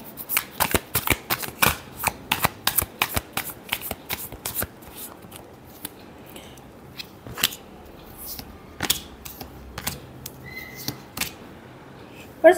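Tarot cards are shuffled by hand in a rapid run of crisp riffling slaps, then come slower scattered flicks and taps, close and fairly quiet, with no talking.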